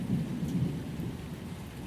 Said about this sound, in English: The rain shifts slightly now, becoming softer, lighter, as though the storm is resting. The thunder grows more distant